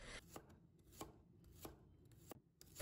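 A kitchen knife slicing a handful of garlic cloves into thin pieces on a cutting board, giving six or so crisp, evenly spaced chops, close up and alone with no talking.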